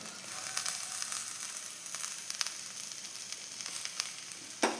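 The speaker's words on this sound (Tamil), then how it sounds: "வெங்காயம் செவத்ததும் கழுவி நீட்டாக வச்சுருக்க கருவாடை போட்டு கிளறும்" Dried fish for karuvadu kuzhambu is stirred into browned onions in a pan, giving a constant close sizzle with scattered stirring clicks and a sharp knock at the end. No one speaks.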